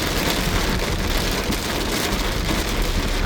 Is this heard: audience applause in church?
no